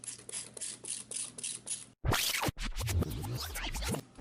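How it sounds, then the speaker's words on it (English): A short sharp spray of sanitizer hisses loudly into a butterfly valve on a conical fermenter for about half a second, followed by bubbling, gurgling liquid sounds and soft scraping, all close by with no talking. "I'm gonna spray out this butterfly valve."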